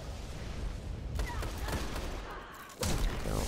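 Sniper gunfire in a Destiny Crucible multiplayer match: a couple of sharp, booming shots crack out over dense, continuous game noise and ambient rumble.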